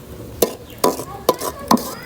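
Spatula scraping and stirring a thick mango pulp mixture with five-spice powder in a pan while making aamsotto, four distinct scrapes spaced evenly apart, close and clear with no voices.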